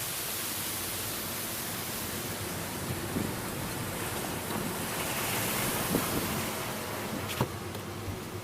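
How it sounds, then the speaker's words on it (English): Strong outdoor wind roars steadily as broadband rushing noise, loud and continuous, with a few faint clicks and bumps near the microphone and no talking. "That is some wind."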